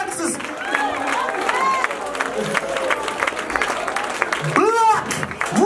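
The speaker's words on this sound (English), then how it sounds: "Start making noise right now. Start clapping hands right now." Audience at a talent audition cheering and clapping for a performer from Oak Cliff, Texas, a busy crowd roar with whoops and voices throughout, rising louder near the end.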